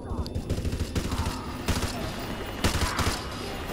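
Rapid gunfire in the video game Call of Duty: Modern Warfare 2, sustained bursts of close shots in quick rhythmic succession with a few louder cracks, running continuously throughout.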